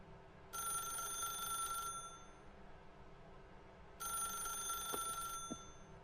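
In the video game The Stanley Parable, a telephone rings in two bursts of electronic trilling, each lasting over a second and separated by a pause, heard clearly against quiet room tone.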